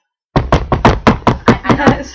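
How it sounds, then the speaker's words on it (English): Rapid knuckle knocks on a person's own head, about nine sharp, evenly spaced raps in a quick steady rhythm, close and fairly loud with a hollow thud. "I knocked on my head because I'm stubborn"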